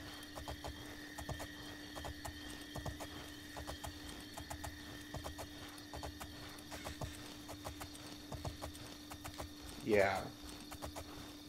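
Horse hooves clip-clopping at a steady walking rhythm while riding in the video game Oblivion, a soft repetitive thudding pattern over low background hum, with a brief vocal sound near the end.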